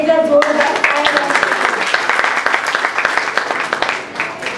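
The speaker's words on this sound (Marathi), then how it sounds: "त्यांनी त्याच्यासाठी एकदा जोरदार टाळ्या" An audience at a children's drama event applauds a small child's dance, giving a dense, loud burst of many hands clapping that rings out steadily and eases off slightly toward the end.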